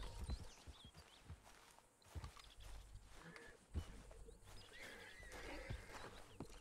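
A horse whinnies and its hooves clop on the ground in the video game Red Dead Redemption 2, with irregular close steps, shuffles and snorts at a low overall level.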